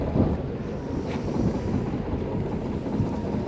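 Strong wind roars steadily over a small fishing boat at sea off Gunsan, a dense, unbroken rush buffeting the microphone with no voices.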